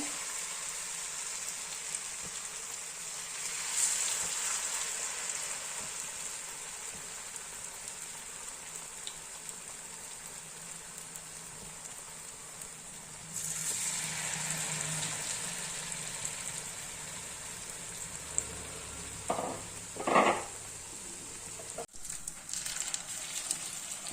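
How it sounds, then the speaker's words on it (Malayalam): Battered ripe plantain fritters (pazhampori) deep-frying in hot oil give a steady, rain-like sizzle throughout, with a few brief louder crackles and clinks near the end. "എണ്ണ ചൂടാവുമ്പോൾ നമുക്കിതുപോലെ എല്ലാ ഏത്തയ്ക്കാപ്പവും വറുത്തെടുക്കാതെ"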